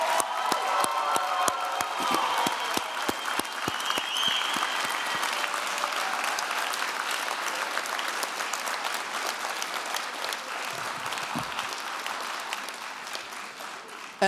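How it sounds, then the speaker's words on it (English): An audience at a university graduation celebration gives a sustained round of applause for the graduates, dense clapping that slowly thins and fades over about fourteen seconds, with a few voices murmuring beneath. "by giving you a round of applause."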